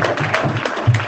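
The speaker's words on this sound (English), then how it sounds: "I think the students really deserve a round of applause" A school committee meeting audience claps for the students, a brief burst of applause at moderate distance with a faint voice underneath.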